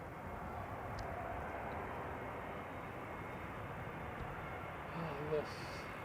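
A JetBlue Airbus A321neo airliner lands at Amsterdam Schiphol, heard as a faint, steady distant roar of jet engines that swells slightly near the end.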